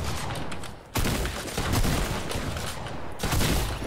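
A shotgun in Fortnite fires in rapid succession, a dense barrage of sharp blasts that keeps going with brief gaps, loud and close.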